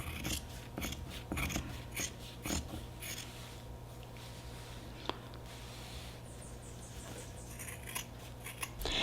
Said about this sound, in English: Just keep cutting all the way around.